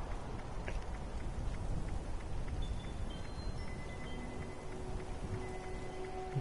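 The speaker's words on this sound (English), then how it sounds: "What's about the rain in the game?" Steady rain pattering on surfaces in a video game, a dense continuous wash of drops with faint electronic tones above it; no clear thunder clap stands out.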